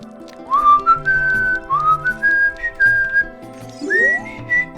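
A person whistles a tune of held, sliding notes over a backing melody, with several phrases ending on a strained high pitch.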